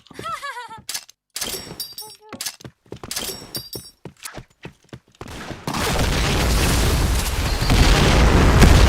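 Gunfire in the first-person shooter game Point Blank: sharp, loud shot bursts in quick irregular succession, then a dense sustained roar of firing and explosions, with a tonal game effect at the opening.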